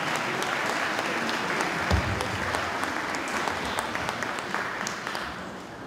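Warm applause from an audience at a Christmas carol concert welcoming a young soloist, a continuous dense clapping sustained evenly and close, tapering slightly at the end.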